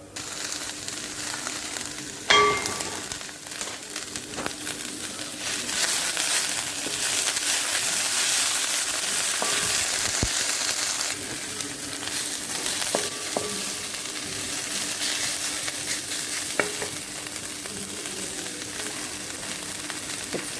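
Moringa leaves sautéing in a pan for paratha filling, a continuous sizzle and crackle with occasional clinks and scrapes from stirring, close and steady throughout.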